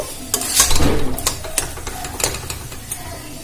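A snack filling for vegetarian mughlai mixed thoroughly by hand or spoon, with close scraping and soft clattering against a bowl, louder at first and then lighter intermittent taps.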